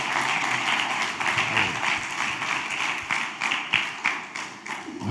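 Applause from a church congregation praising the Lord during a sermon, a steady patter of hand claps that swells and fades over several seconds, with a few louder thumps near the end.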